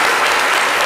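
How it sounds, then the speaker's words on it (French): Studio audience on the set of a French-language talk show in Côte d'Ivoire applauding a guest, a loud, dense, continuous wash of clapping with no voices, close and even from start to end. "encore des applaudissements"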